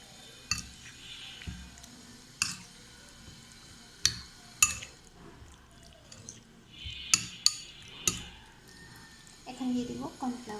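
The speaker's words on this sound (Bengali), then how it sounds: "Soya sauce. ভালোভাবে মিশিয়ে নেব।" Beef chow mein with soy sauce is stirred in a pan, giving scattered clinks and scrapes of a utensil against metal, fairly quiet, with soft background noise between the knocks.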